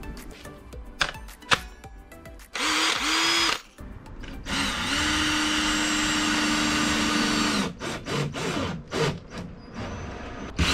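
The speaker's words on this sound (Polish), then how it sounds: "będzie trzeba to przywiercić teraz" A power drill drives fasteners into a bulkhead wall inside a camper van, with several short bursts followed by long sustained whirring runs, close and loud, separated by brief handling noises.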